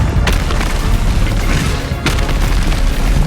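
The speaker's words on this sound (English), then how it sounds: "you can throw grenades to take them out because of the area effect" Grenade explosions in Helldivers 2, a dense, loud rumbling boom with a second blast cracking through partway, continuous heavy low-end roar throughout.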